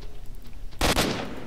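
A single loud, close gunshot burst in the shooter game STALKER, a sharp double crack with a brief decaying tail over low background rumble.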